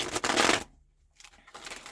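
A deck of cards being shuffled up close, two quick riffling bursts of papery flutter separated by a short silence, fairly quiet.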